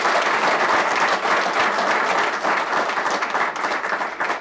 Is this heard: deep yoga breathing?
no